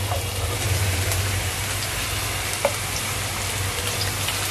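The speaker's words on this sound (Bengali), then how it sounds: "চিকেনগুলো দিয়ে দিই।" Chicken pieces hiss and sputter as they fry with onions for biryani, a dense steady close sizzle broken by a single sharp clink of a utensil, no voices.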